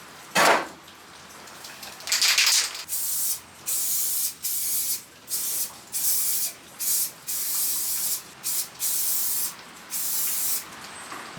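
Sanding a 3D-printed part for a full-sized District 9 rifle replica: repeated rhythmic scratchy hissing strokes in short bursts, close and fairly loud, with no talking.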